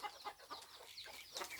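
Chickens cluck around a rural Thai farmhouse, several faint, scattered clucks and squawks close by in a quiet yard with no talk.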